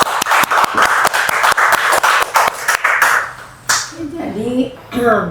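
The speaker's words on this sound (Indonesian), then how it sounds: "Baik, tepuk tangan." A small group of people claps in steady, distinct rhythmic beats for about three seconds, then the clapping stops and a voice begins talking.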